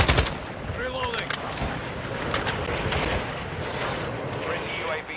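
Rapid video-game gunfire crackles through a busy military shooter match, dense bursts layered over a constant battle din with some voice chatter mixed in.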